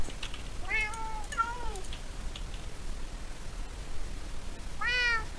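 A cat from the video game Minecraft meows twice in quick succession, then once more a few seconds later, clear tones over a steady low background hiss.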